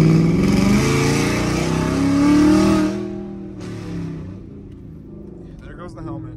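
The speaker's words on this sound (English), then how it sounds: "I'm gonna gas it right after this turn a little bit just to hear how crazy loud it is" A truck fitted with custom race dump exhaust roars under throttle, loud and close, its revving climbing then dropping off sharply as it settles; a voice is heard speaking over the engine.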